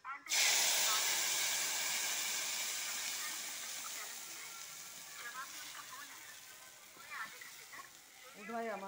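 Fish pieces for a Bihari fish curry frying in a pan give a loud, steady sizzling hiss that gradually eases, with a voice talking over it toward the end.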